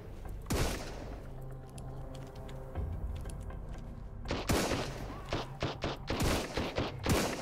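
A pistol fires in the video game Sunkenland: one sharp shot, a lull with background game music, then a quick string of close, loud shots.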